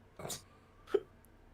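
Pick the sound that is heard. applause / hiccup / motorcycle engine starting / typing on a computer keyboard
hiccup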